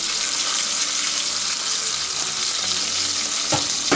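Country fried steak, a breaded Wiener schnitzel-style cutlet browning in a hot pan, giving a steady, loud, close sizzle with a brief clatter near the end.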